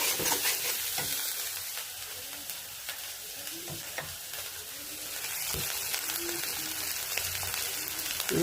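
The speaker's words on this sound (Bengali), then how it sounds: "তেল দিয়ে এখন আমি এটা ভুনা করব।" Vegetables with onion, chili powder, salt and turmeric sizzle steadily in hot oil, close by, with a spoon scraping and stirring in irregular strokes through the continuous frying hiss.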